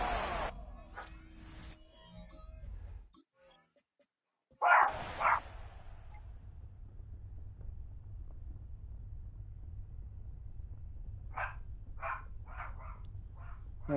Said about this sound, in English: I don't know why she's choosing to bark now